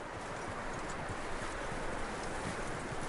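Horse hooves clip-clop steadily in Red Dead Redemption 2, a dense continuous trotting patter heard up close, with no talk.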